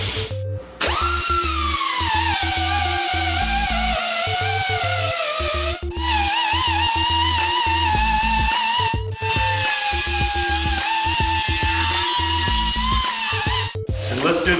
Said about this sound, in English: Now we're going to grind about an inch back from the cut and deburr the inside of the frame.